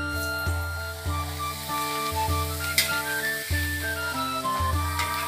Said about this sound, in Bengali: পাঁপড় ভাজা, হ্যাঁ পাঁপড় ভাজা হচ্ছে